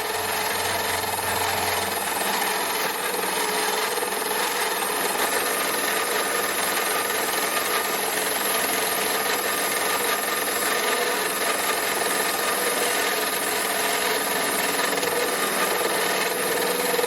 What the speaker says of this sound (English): Okay, back on the mini lathe.